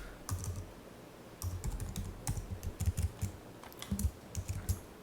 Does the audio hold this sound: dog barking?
no